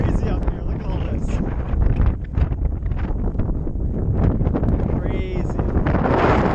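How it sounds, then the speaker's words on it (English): Strong, constant wind buffets the microphone on the cloudy summit of Mount Lafayette in New Hampshire, roaring loud and gusty throughout, with someone talking over it. "It's so freaking windy up here and cloudy, it's crazy."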